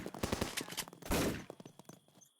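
Rapid bursts of video game gunfire from chipmunk enemies in a horror adventure game, dense close shots in a quick fusillade followed by a fading tail.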